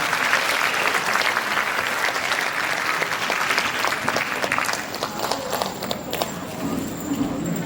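An audience bursts into steady clapping to welcome a speaker at a world Korean-language speech contest for foreign speakers, dense applause that gradually thins toward the end.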